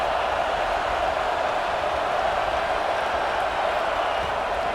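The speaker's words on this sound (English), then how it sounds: "the Buckeye crowd alive on third down" Stadium crowd noise in a college football video game at an Ohio State Buckeyes home game on third down: a loud, dense, unbroken roar of cheering that holds steady throughout.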